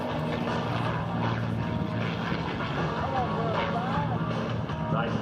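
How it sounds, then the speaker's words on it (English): A racing airplane powered by a Packard V12 engine flies at an air race, giving a continuous droning engine roar with fluctuating pitch and steady loudness throughout. "We'll talk about that engine. It's a Packard B1650. It's a V12."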